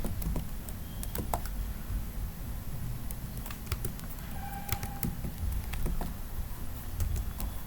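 Typing on a computer keyboard while entering R code, scattered clicks and short bursts of keystrokes heard close over a steady background hum, with no talking.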